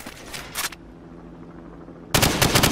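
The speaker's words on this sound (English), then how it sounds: "Now, shoot at the targets while firing from the hip." Bursts of Call of Duty 4 gunfire shot from the hip: a short rapid volley, a quiet pause with a low hum, then a loud sustained automatic burst to the end.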